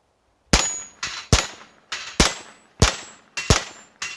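A .22 pistol, a Ruger Mark III with a slightly longer barrel, fires about eight sharp, cracking shots in quick succession at a brisk, slightly uneven pace, each with a short ringing tail.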